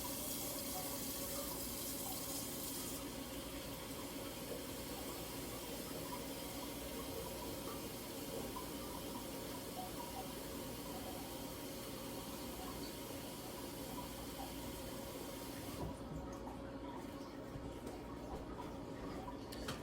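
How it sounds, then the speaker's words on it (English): Pot being filled with water from a kitchen tap, a continuous steady rush of running water lasting about twenty seconds, close and even, the pitch shifting slightly toward the end as it fills. "you're gonna fill it to that line with water"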